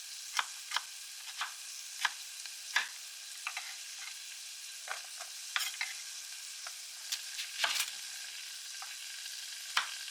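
Diced carrots and onions cut into small cubes sauté over low heat in a soup pot, a soft continuous sizzle punctuated by sharp scraping stirs and clinks of a utensil against the pot.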